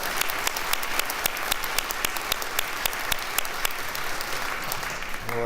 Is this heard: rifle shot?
no